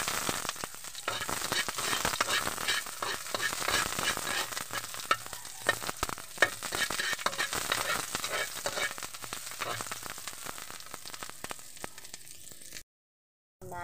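Garlic and onion fry in oil in a pan, giving a steady close sizzle with scattered crackles and pops that runs continuously before cutting out near the end.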